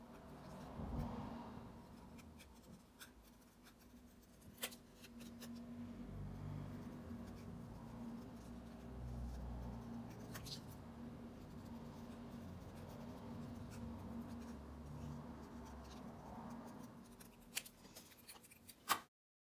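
Card stock being cut for handmade card-making, a faint, steady scraping and rasping that runs almost unbroken for about twenty seconds over a low background hum, with a sharper snap at the very end.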